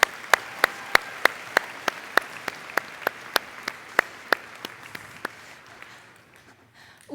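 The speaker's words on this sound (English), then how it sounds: "Let's give him one big round of applause" Applause from the audience at the opening session of the 88th Wisconsin FFA Convention, heard as sparse, sharp individual claps spaced at a steady pace that gradually thin out and fade to quiet.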